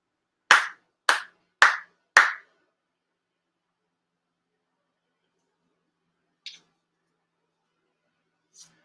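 At a prayer service, four ceremonial hand claps sound in quick, even succession, crisp and close, followed by a long quiet with two faint, small knocks later on.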